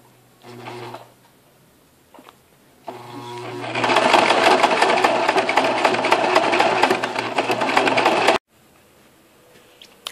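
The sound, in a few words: sewing machine stitching zigzag around a panel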